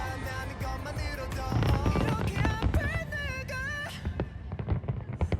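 Fireworks bursting over a crowded outdoor celebration in Seoul, sharp booms and crackles with whistling, rising tones and voices of the crowd mixed in, dense at first, then thinning to scattered pops.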